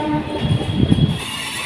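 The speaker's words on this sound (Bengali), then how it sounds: "দেখতে পাচ্ছ আমাদের পাশের লাইনে যাচ্ছে একটা এক্সপ্রেস, তার সঙ্গে আমাদের এই হলদিয়া ফার্স্ট সেটাও চলছে একসঙ্গে" A Haldia Fast EMU local train runs alongside an express train, giving a loud, steady rumble of wheels and carriages with a brief swell of rolling noise in the middle.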